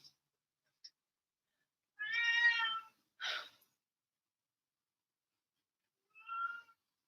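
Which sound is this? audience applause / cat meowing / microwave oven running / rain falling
cat meowing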